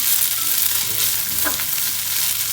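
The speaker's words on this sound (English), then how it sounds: "Then saute around 1 minute." Spaghetti with meatball tomato sauce, parsley and crushed black pepper sautés in a pan, giving a continuous close frying sizzle with a light stir scrape midway and no speech.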